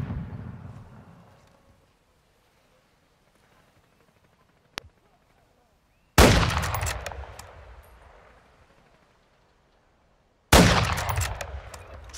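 Call of Duty: Modern Warfare II gunfire comes as isolated loud bursts: a single sharp crack, then two heavy blasts with decaying tails, separated by near silence.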